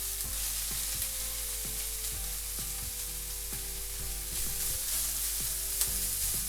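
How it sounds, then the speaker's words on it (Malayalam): Grated carrot, about two peeled carrots, frying in a pan for spaghetti bolognese and mixed with a spoon, giving a steady hiss over a low hum with regular soft scrapes. "ഇതെല്ലാം നമുക്ക് നല്ലോണം മിക്സ് ചെയ്ത് കൊടുക്കാം"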